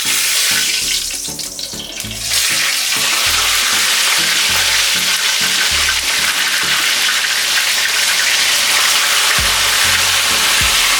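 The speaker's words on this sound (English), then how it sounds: "So now I will put the fish in the frying pan." Fish for Jamaican brown stew fish sizzles and crackles loudly in hot oil in a frying pan, a steady dense fry with occasional thumps and scrapes from the pan.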